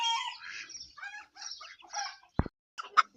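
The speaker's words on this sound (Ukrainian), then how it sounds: "Щось кури кричать, мої не знаю, що десь налякало." Frightened chickens squawk and cluck in a rapid, agitated chorus with a crowing call, then a sharp knock and a few final squawks.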